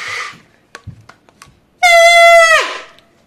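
A toy horn gives a loud, bright, buzzy honk held for nearly a second after a few soft clicks and taps while it is handled, and a short voice is heard at the start.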